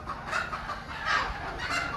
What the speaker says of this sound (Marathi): 250 ते 300 कोंबडी आहे इथं